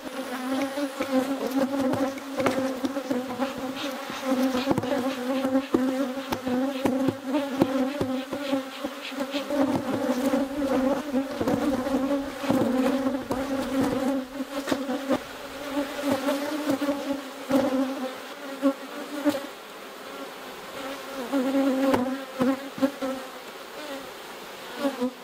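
Honey bees swarm and buzz steadily around an opened beehive during an inspection after a split, a dense droning hum filling the whole stretch at close range with no talking.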